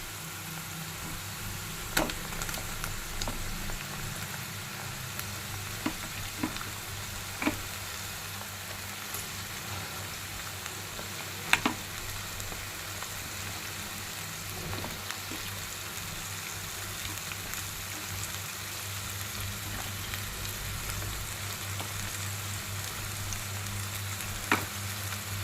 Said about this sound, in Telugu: మటన్ వేసేసుకోవాలి.